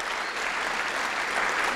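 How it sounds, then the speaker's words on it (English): Applause from an audience at an event, a dense, steady wash of clapping at moderate loudness that continues throughout. "Can I get one more round of applause?"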